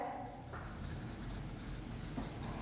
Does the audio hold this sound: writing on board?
yes